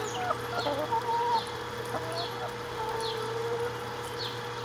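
A chicken clucks in short, repeated calls near a running wool tumbler for alpaca and sheep fiber, a steady low mechanical hum underneath the intermittent bird sounds.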